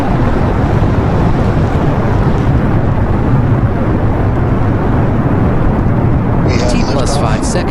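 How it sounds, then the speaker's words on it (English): The Aeronis 7R rocket lifts off from its launch pad with a steady, loud, broadband roar and low rumble, buffeting like wind against the microphone, with a few brighter crackles near the end. "Aeronis 7R has successfully lifted off and is climbing away from the launch pad"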